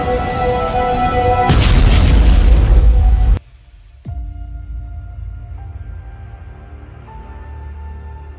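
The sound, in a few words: fighter plane exploding in Green Lantern film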